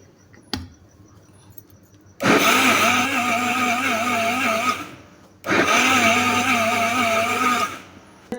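An electric blender whirs through two long bursts with a brief pause between them, loud and steady, blending chicken sandwich filling seasoned with vinegar, sugar and a little ground pepper. No voices are heard.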